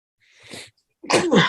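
A single sneeze, a soft drawn-in breath followed by a sharp, loud burst, with no talking.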